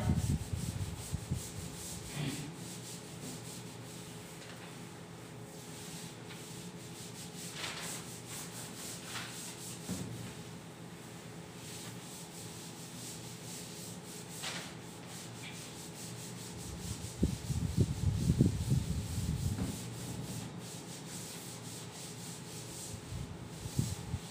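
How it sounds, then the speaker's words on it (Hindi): A board eraser rubs across a classroom board during a Class 9 maths lesson, giving steady scraping strokes in irregular bursts with a stronger stretch near the end, close by and moderately quiet with no talk. "चलो इसको अब मैं रब कर दूं, इसको रब कर दिया जाए।"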